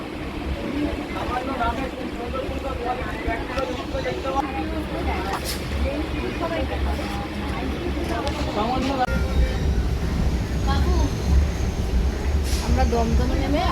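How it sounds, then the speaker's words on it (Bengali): A local train carriage rumbles along in a steady, continuous low roar with rattling undertones, growing slightly heavier toward the end, with faint voices in the background. "ট্রেনে উঠে পড়েছি"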